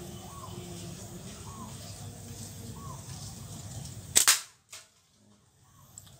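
A homemade bamboo slingshot launches a steel ball with one sharp, loud snap, followed by a quieter knock soon after, over a steady outdoor background that drops away once the shot is made.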